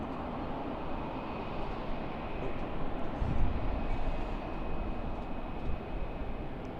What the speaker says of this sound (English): It's an Air India Boeing 787-8. 34 left at Sydney Kingsford Smith on a beautiful Monday morning.